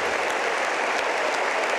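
Crowd applause at a 1992 Cincinnati tennis final, a dense, steady wash of clapping that fills the short moment at full volume with no voices over it.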